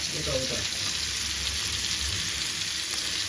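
Hot oil is poured over fish heads frying in a pan, setting off a loud, dense, unbroken sizzle up close, with no talk over it.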